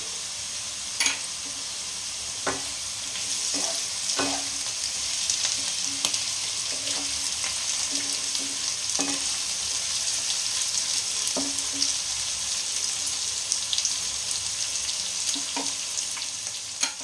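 Cashews and raisins fry in a pan for spicy semolina pulao, giving a steady bright sizzle broken by periodic scrapes and clinks of stirring. No voices.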